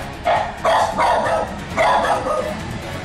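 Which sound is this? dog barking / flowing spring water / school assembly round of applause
dog barking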